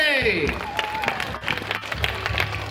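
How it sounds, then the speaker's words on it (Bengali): Audience applause with some crowd noise at a stage event where a singer sang about Osman Hadi, clapping running throughout beneath someone speaking loudly. "হাততালি হবে।"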